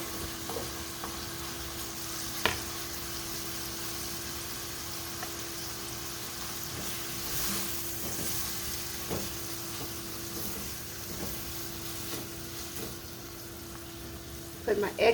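Microwaved vegetables and chiles for shrimp and pork fried rice frying in a pan, a steady hiss and crackle throughout with occasional clinks and stirring, moderately close.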